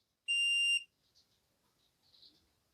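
A single sharp, high electronic beep about half a second long from a cross-line laser level tilted past its 4-degree self-leveling range, then near silence with faint small clicks and rustles.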